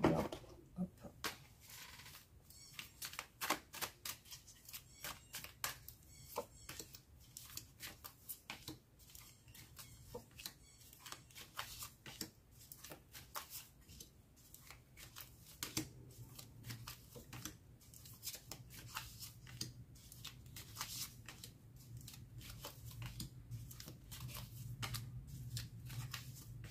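Tarot cards shuffled by hand for a reading, giving a long run of quick, crisp, irregular flicks and riffles. The sound is fairly quiet and close, over a faint low hum, with no talking.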